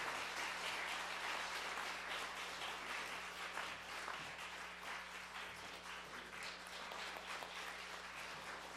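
A church congregation gives steady applause at a Korean Holiness church service installing a new senior pastor, a sustained roomful of clapping with a low electrical hum beneath it and no talk.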